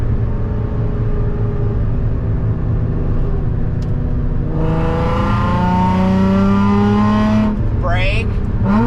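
A car accelerates through a right turn onto State Route 234, its engine rumbling steadily and then rising loudly in pitch as revs climb, with a harsher surge near the end; the engine stays close and continuous.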